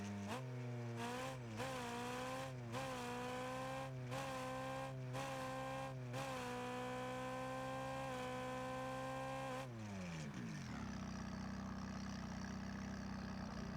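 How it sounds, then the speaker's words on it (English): Engine note of a McLaren 570s in Rocket League, a loud buzzy synthetic rev that climbs in pitch and drops back in repeated short bursts, then sweeps down and settles into a lower steady drone, heard alone. "and here is the engine sound."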